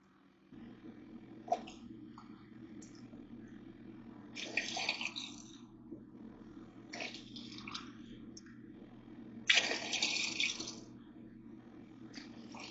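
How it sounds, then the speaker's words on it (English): Creamer poured back and forth between two cups to mix it with coconut oil and butter for bulletproof coffee, a few separate soft splashing pours over a low steady hum. "Just mix these back and forth a few times"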